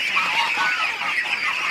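A bunched-up flock of ducks honks loudly and steadily up close, the calls overlapping into a constant squawking chorus.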